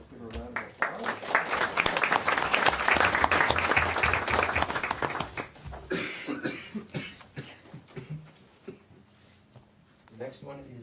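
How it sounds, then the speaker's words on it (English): Dense clapping from a city council meeting audience fills the first half, then thins out into scattered claps as a voice begins speaking over the fading applause. "Let's give her a round of applause"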